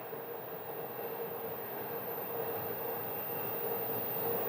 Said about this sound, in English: we had the engine start up Juliet, American Maintenance 524. on this A321